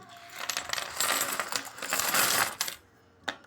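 Old coins, including large old one-rupee pieces, clink and jingle as they are dropped and handled in a close, dense metallic rattle that stops abruptly, followed by one last clink.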